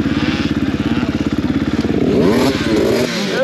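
An 85cc motocross bike runs on a dirt track, its engine buzzing steadily with a rapid pulsing rhythm before a brief rev swell, loud and close throughout.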